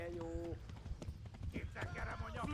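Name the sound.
horse galloping hooves in Kingdom Come Deliverance video game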